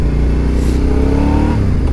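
An old car's engine revving loudly and up close on a city street, a rough, throbbing low rumble that climbs steadily in pitch over two seconds.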